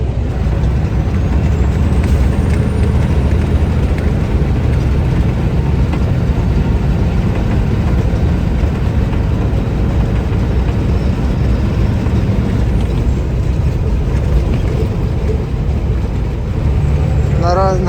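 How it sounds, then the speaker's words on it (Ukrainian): A bobtail semi truck pulls hard with no trailer attached, heard from inside the cab as a loud, steady roar of engine and road noise that lasts throughout. "Зараз вам покажу, як розганяється трак, коли їдеш бобтейлом."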